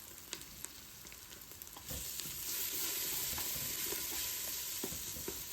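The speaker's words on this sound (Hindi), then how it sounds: "उसमें 2 बड़े खाने के चम्मच डाल दिए लहसुन और अदरक का पेस्ट। उसको भी भून लिया" Steady sizzling of ginger-garlic paste frying in a pan, with occasional clicks and stirring scrapes; the sizzle grows louder and denser after a couple of seconds.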